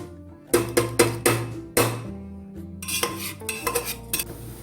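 A utensil scrapes and knocks against a metal pan while ingredients are stirred lightly in ghee, giving a series of bright clanks and taps. Only a faint sizzle sits underneath.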